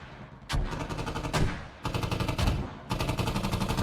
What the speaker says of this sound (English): Where are these mortars coming from?